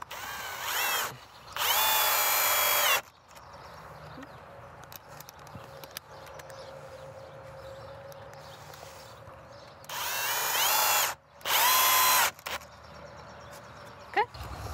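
A power drill drives screws into a wooden fence rail in four loud, whirring bursts of about one to two seconds each. The bursts come in two pairs, with quiet handling and tool noise between them.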